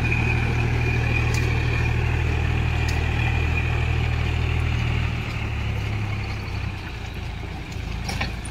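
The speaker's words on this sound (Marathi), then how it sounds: "आता हे चिखल करणार आहे ट्रॅक्टर" A tractor engine churns mud in a flooded rice paddy. It gives a constant low droning hum that eases off slightly in the last few seconds, with no talking.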